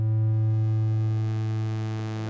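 Steady synthesized triangle wave tone from TouchDesigner, a loud, buzzy low hum with faint upper overtones that sustains evenly for the whole stretch, fading slightly at the end, with no voices.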